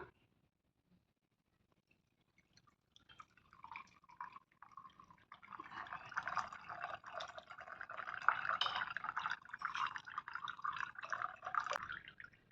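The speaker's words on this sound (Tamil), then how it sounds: "அடுப்பை ஆஃப் பண்ணிடலாம் சூப்பை வடிகட்டிக்கலாம்" Thuthuvalai herbal leaf soup is strained off the stove, giving steady liquid dripping and trickling that starts faint and grows louder, continuing without talk.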